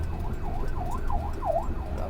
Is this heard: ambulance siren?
yes